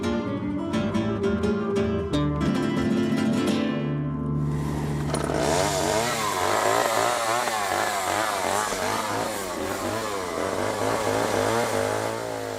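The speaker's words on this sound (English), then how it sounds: "There's the chainsaw artist." A chainsaw artist's chainsaw runs loud and close, its engine revving and dropping in pitch before settling into a sustained, bogging cutting snarl as it bites into wood.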